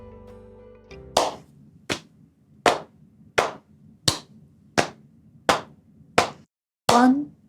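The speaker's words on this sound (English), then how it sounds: "we're going to have a clap on beats 1, and on beats 2, 3, and 4, we're going to do it on our lap" A clear hand clap followed by a steady run of lap pats in body percussion, about ten sharp evenly spaced slaps on a four-beat count, close and distinct with a brief pause before the final louder hits.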